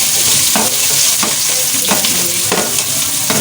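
Chopped onion sizzles loudly in hot oil with cumin seeds, a dense continuous frying hiss broken by regular spoon scrapes about every second.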